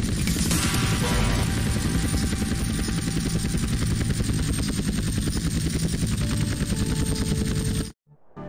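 Helicopter in the GTA San Andreas video game: a dense, continuous rotor roar mixed with rapid gunfire, loud and sustained for several seconds before cutting out abruptly, with no speech.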